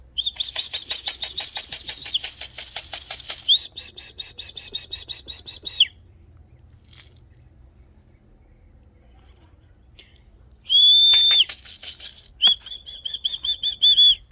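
Birds take off from a pole in rapid bursts of wing flapping, close and loud, with high whistled chirps over the flutters, a quieter gap in the middle, then a fresh flurry of wings and calls.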